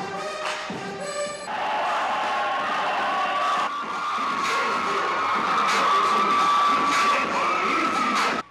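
Crowd at a college dance competition: after a few faint musical tones, loud cheering, whooping and shouting swell up and hold steady, a dense mass of voices filling the room until an abrupt cut.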